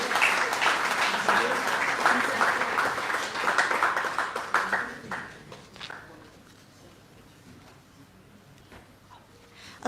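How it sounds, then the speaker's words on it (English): At a Hall of Fame awards ceremony held during an annual general meeting, an audience claps in a lively burst for about five seconds before the applause thins out and fades to near quiet. "Ladies and gentlemen, a huge round of applause for Mr."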